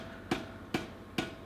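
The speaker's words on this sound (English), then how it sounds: "I'm doing this under the power hammer because it's an awful lot quicker than" A power hammer forges a metal bar for a reproduction of the Sutton Hoo chain's suspension ring, three sharp, evenly spaced heavy blows about half a second apart, ringing briefly over a low workshop hum.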